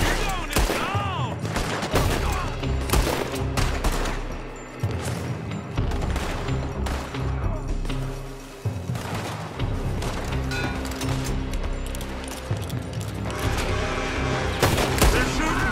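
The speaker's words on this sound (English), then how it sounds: "They're shooting from that building!" In Red Dead Redemption 2, a town shootout fills the air with dense, rapid gunfire: overlapping shots, volleys, and sharp cracks that continue almost without pause. Voices shout now and then.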